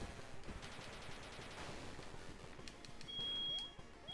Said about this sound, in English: Oh no, my fire alarm's going off.